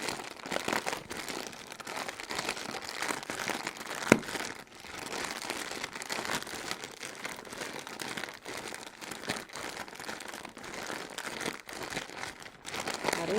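A plastic zipper bag crinkles and crackles continuously up close while powder and liquid ingredients are mixed inside it, in busy, uneven bursts with one sharp snap, and no voices.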